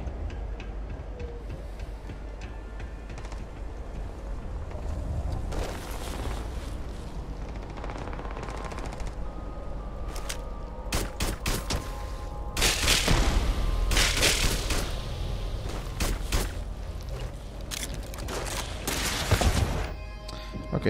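Gunfire from a player's weapon in the space game Starfield: sharp bursts of shots and booming impacts come in clusters over a steady background rumble, loudest in the second half.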